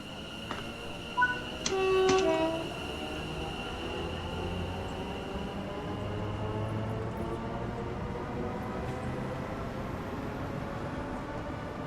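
A Class 710 Aventra electric train on the Suffragette line in Train Sim World accelerates at full power, a steady rising traction hum with layered tonal whine after a brief horn-like tone near the start, no talking.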